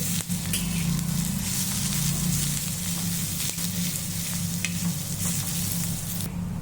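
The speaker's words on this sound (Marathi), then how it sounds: "कांदा आपण असा छान ब्राऊन होईपर्यंत भाजून घेऊ" Onion browns in a pan for a Kolhapuri egg curry masala, giving a dense, even sizzle with a few faint stirring knocks, close and continuous.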